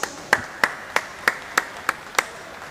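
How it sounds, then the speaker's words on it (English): Applause for officials and volunteers at a county swimming championship: sparse, evenly spaced claps, about seven of them at a steady rhythm, fairly faint and distant. "Give them a big round of applause."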